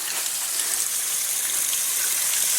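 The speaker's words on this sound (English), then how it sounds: "It's a lovely waterfall." Steady broadband rush of a waterfall beside a railway line on the Port Alberni Subdivision, a constant hissing wash of falling water with no voices.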